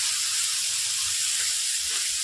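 Bamboo shoots frying in a pan, a soft steady hiss and sizzle heard alone and fairly faint.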